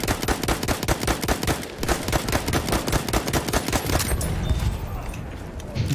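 Rapid automatic gunfire in the video game Battlefield 5, a long run of evenly spaced loud shots that bursts on for about four seconds before trailing off into quieter shooting.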